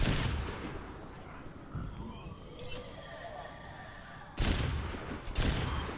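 Gunfire in the Overwatch video game: a few bursts of shots, with a loud cluster near the end, mixed in with game sounds and talking.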